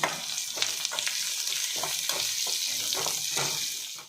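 Curry leaves, onion and garlic sizzle in hot oil for a tempering, with steady crackling frying noise and intermittent stirring scrapes in the pan throughout.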